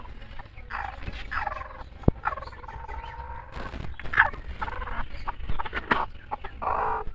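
Backyard chickens cluck and call in a busy overlapping chorus, close by, with sharp little bursts and drawn-out warbling notes, no people speaking.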